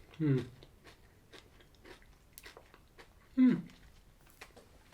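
Someone chews Cadbury Crunchie Rocks, chocolate-covered honeycomb and cornflake clusters, giving two distinct loud crunchy bites a few seconds apart with quieter chewing between, close to the ear.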